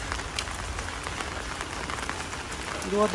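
Steady rain falling outdoors, a dense patter on surfaces heard close throughout, with a brief voice rising at the very end.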